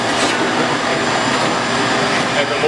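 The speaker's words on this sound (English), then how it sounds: "Vacuum the table." A vacuum cleaner runs steadily and loudly, cleaning the table of a scroll saw, with a constant broadband roar that stays unbroken from start to finish and no voices over it.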